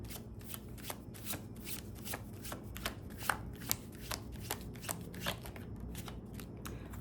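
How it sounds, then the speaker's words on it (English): Tarot cards riffled and shuffled by hand, a rapid run of crisp papery flutters and snaps repeating steadily, close and fairly quiet with no talking. "All right, let's try this again."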